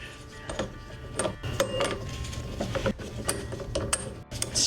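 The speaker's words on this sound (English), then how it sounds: "So we're gonna go ahead and put our puller on here." A puller works a pulley off an old power steering pump from a Jeep in a full steering overhaul, giving repeated metallic ratcheting clicks and tool clanks in an uneven rhythm, close and fairly loud, with no talk.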